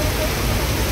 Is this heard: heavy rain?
yes